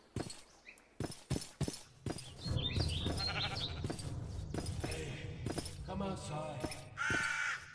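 A busy Minecraft farmyard mix of bleating and cawing animal calls from chickens, pigs and cows, with sharp clicks and taps throughout and a steady low hum underneath.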